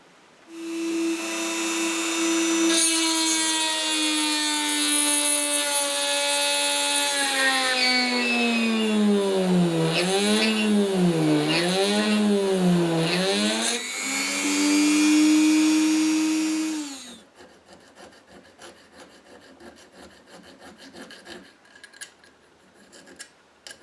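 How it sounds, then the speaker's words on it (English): A small Dremel rotary tool with a 2mm drill bit whines at high pitch while drilling a Dinky Toys Lagonda die-cast model, its tone dipping and rising as it bites in, then stops, leaving faint clicks and handling noises. "Back to the 2mm drill in the Dremel workstation"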